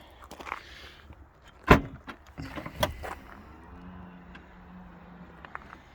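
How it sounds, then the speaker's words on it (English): Electric boot of a Jaguar XJL Portfolio opening, with a sharp click and latch thunk followed by a soft motorised whirr, close and quiet. "So it is an electric boot."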